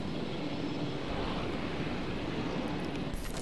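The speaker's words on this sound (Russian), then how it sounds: "Давайте с вертолета понаблюдаем" Steady broad rumbling drone of a helicopter in flight in the dinosaur park management game Jurassic World Evolution, continuous and fairly loud with no talk over it.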